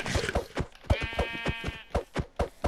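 Minecraft sheep bleating amid clip-clop footsteps, with one wavering bleat standing out in the middle over a steady run of soft thuds.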